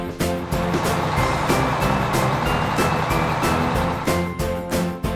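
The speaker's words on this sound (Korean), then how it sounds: "dump truck," A dump truck rumbles loudly and steadily while its reversing alarm beeps in a regular repeating rhythm above the engine noise.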